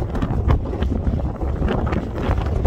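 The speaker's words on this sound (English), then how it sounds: "that wind is ridiculous" Strong wind buffets the microphone outdoors on a motorbike camping trip in Scotland, a loud, continuous low rumble and roar that gusts unevenly, with no speech.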